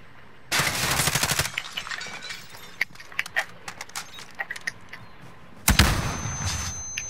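Bursts of automatic gunfire in Call of Duty: Modern Warfare, a long loud burst near the start, scattered single shots and short rattles through the middle, then another loud close burst near the end.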